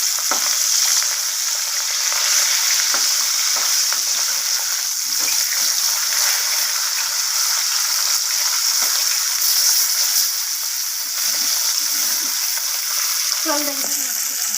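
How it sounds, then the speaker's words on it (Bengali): Pieces of rohu fish frying in oil in a wok, with a loud, steady sizzle that runs throughout and occasional stirring or turning noises. "তো আমি অপর পিসটা ভাজার জন্য উল্টে দেবো মাছগুলোকে"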